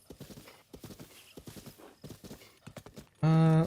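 Rhythmic clip-clopping hooves of a horse being ridden in the Zelda video game, close and moderately loud, ending with a sudden loud sustained tonal burst.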